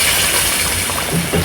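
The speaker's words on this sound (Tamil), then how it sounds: "தேவையான அளவு தண்ணி ஊற்றிக்கலாம்." Water is poured into a pan of chicken curry masala for Kovai-style chicken kulambu, a loud close continuous gush and splash that runs unbroken for a second or two.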